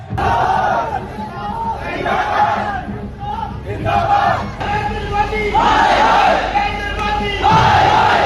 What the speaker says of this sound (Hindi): लोगों ने मेट्रो स्टेशंस के अंदर ही नारे लगाने शुरू कर दिए।